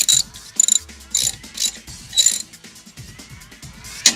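A wrench clicking and ratcheting in quick bursts while a part is tightened during assembly of an Easy Dunker, close and crisp with short pauses between strokes.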